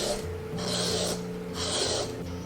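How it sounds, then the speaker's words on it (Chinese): A peeler scrapes the skin off a luffa gourd in two close, rasping strokes, each lasting about half a second, with a short pause between them. "接着我们把丝瓜削皮"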